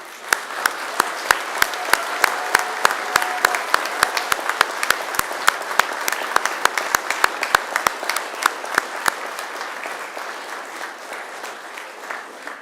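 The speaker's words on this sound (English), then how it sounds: "And now it's time to give them a mighty round of applause." A graduation ceremony audience applauds steadily for about twelve seconds, the dense clapping of a large crowd punctuated by sharp, close individual claps and thinning slightly toward the end.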